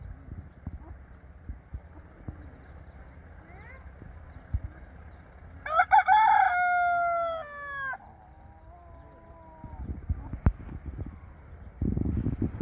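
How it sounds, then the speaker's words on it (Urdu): A rooster crows once at moderate distance in a village yard, a clear drawn-out call in the middle of otherwise quiet ambience with light wind and scattered knocks. "مرغا بھی بانگ دے رہا ہے جی،"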